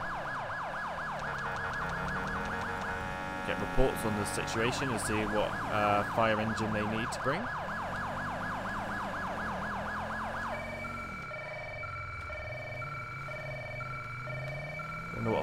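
Police car siren wailing and yelping in GTA V LSPDFR as a unit responds code 3 to a fire call, the tone sweeping steadily then switching to a faster pattern near the end, with someone speaking over it.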